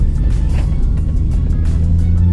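A heavily modified car, a baby Type R, pulls hard on a test drive, its engine a loud, close, continuous roar throughout the short burst.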